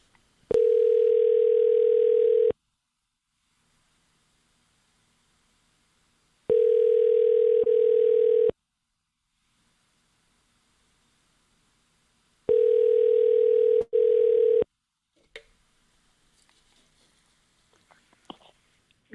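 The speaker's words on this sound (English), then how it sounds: "Now let's dial it." A telephone dial tone plays loud and steady in three long beeps of about two seconds, separated by silence, then gives way to faint clicks and rustling.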